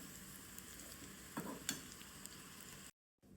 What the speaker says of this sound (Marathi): पळया हे भाजून जालें म्हाजें कॉलीफ्लावर